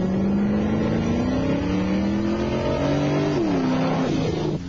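A car drives by at speed, its engine note rising steadily then dropping as it passes close and loud, with no talking.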